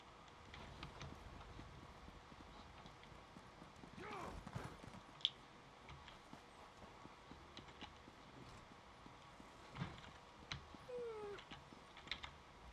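A horse's hooves clip-clop faintly and steadily in Elder Scrolls Online, mixed with soft game ambience and a few brief tones.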